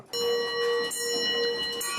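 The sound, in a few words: Comtoise clock striking the hour on a bell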